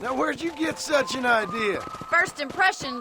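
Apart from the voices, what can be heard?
No everyday noise stands out behind the speech.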